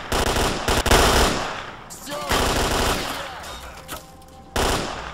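Bursts of automatic gunfire in the video game STALKER: Clear Sky, loud rattling volleys near the start, a pause with scattered shots, then another sharp burst at the end.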